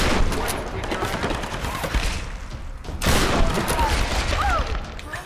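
Sustained gunfire rattles through a firefight in Tomb Raider, loud and dense throughout, with bursts of rapid shots that briefly drop near the middle and then come back even harder, joined by a few short whistling tones.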